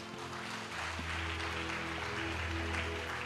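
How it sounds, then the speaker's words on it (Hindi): A congregation claps at a Christian healing service, a dense patter of hands over a low, steady musical drone, fairly quiet and without distinct speech. "ताली बजा दो"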